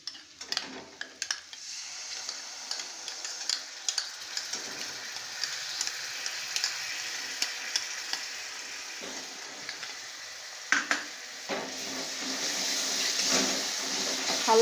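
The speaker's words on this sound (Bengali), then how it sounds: "হালকা করে নাড়তে হবে" A spoon stirs a cashew and poppy seed paste in a frying pan over low heat for a yogurt catla fish curry. Soft frying hiss runs under frequent light scraping and tapping clicks.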